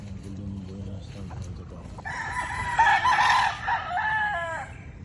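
A young stag rooster crows on a farm on a rainy afternoon, one loud drawn-out call rising then falling, close by, following some softer clucking and a voice over a background of steady rain.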